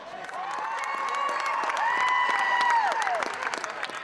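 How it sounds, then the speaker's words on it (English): A crowd at an indoor court game cheers and applauds under a loud, drawn-out whistle-like shout and sharp sneaker squeaks, with clapping and shouting continuing throughout. "Parents Kip and Tanya Thompson cheer on their son Derek."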